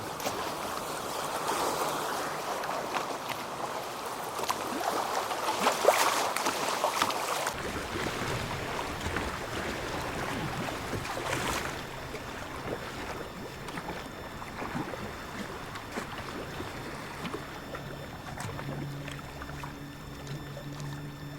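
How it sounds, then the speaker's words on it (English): Water rushes steadily around a small boat on a river, with its hull grinding and scraping over the gravel bottom and knocking against rocks, loud and close throughout. "You may also hear the hull of my boat scrape along the bottom and hit a few rocks"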